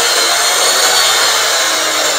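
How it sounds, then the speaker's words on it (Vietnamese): A sliding miter saw for wood and aluminum runs loud and steady at close range, its motor whine and cutting noise continuous throughout with no voices. "máy cắt gỗ, cắt nhôm, cưa trượt"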